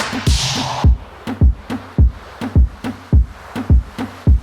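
A punchy tropical house beat made in FL Studio with steady kick-and-snare hits, plus a bright synth swell at the start, loud and up close.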